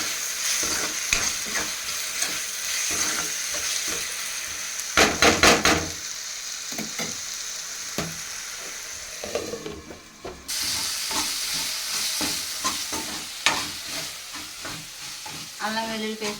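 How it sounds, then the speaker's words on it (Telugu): Ginger garlic paste fries in a pan with a constant close sizzle, broken by repeated scraping stirs of a spoon against the metal, with no talking. "అల్లం వెల్లుల్లిపాయ పేస్ట్ పచ్చివాసన పోయేదాకా వేపుదాం"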